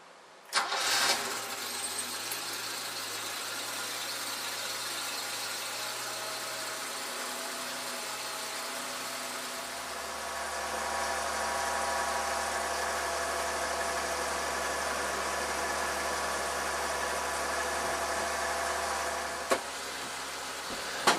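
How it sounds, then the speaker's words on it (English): A 1983 BMW 323i E30 engine cranks and catches, then idles steadily with a faint high squeak riding over the low rumble; the idle deepens partway through. "The engine starts always at the first time, although there is a squeaky noise"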